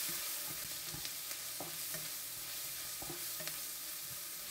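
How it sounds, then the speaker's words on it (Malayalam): Spice powders, including Kashmiri chili powder, are stirred into onions in a frying pan for a vegetable pulao. Irregular spoon scrapes and taps land over a steady, close sizzle, with no voices. "ഇനി ഈ പൊടികളെല്ലാം സവാളയുമായി നന്നായി മിക്സ് ചെയ്തതിന് ശേഷം 1/2 ടേബിൾ സ്പൂൺ ഗരം മസാല കൂടി ചേർത്ത് കൊടുക്കാം."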